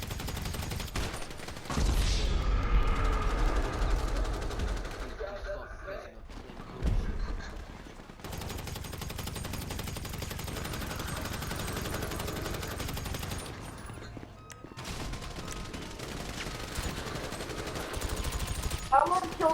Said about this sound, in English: He using minigun. Bro, stop using a minigun.